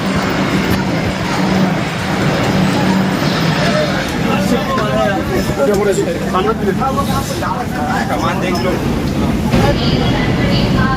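A Kolkata metro train runs with a loud, continuous rumble and rattle, heard from inside the carriage, while passengers talk and chatter throughout.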